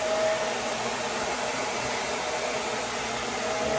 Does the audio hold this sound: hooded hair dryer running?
yes